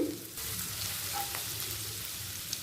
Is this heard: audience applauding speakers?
no